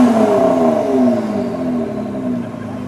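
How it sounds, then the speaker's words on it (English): A 2018 Ford GT's 3.5-liter engine, heard with the engine compartment open, sustains a loud rev whose pitch slowly falls as it winds down. "Let's give it one rev with this engine compartment open."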